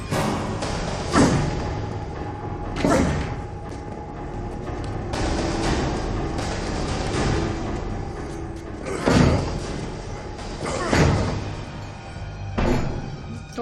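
A door is slammed and pounded in a TV sci-fi action scene, with repeated heavy thuds and bangs at irregular intervals over a steady background rumble, loud and close.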